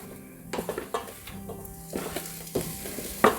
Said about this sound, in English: Grab those delicious roasted veggies, get them into the pot carefully.